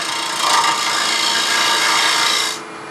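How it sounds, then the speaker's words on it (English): Side grain of wood being cut by hand for a wooden cable grommet, a steady rasping, scraping stroke close up that runs continuously for a couple of seconds, then stops abruptly. "by coming in sideways, we'll be cutting side grain, and it'll just be real easy"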